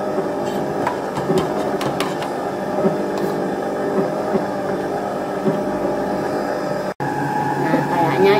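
An electric hand mixer runs at its lowest speed through brownie batter with flour being added, a steady motor drone with scraping clicks of the beaters against the bowl, a brief dropout near the end, and a voice talking over it.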